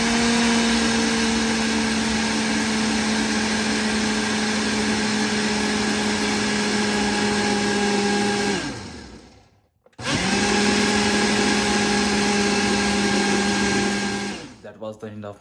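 Blender whirring through a protein shake with powder and instant coffee, a loud, steady high-pitched motor whine that winds down, stops briefly, then surges back and runs again before spinning down.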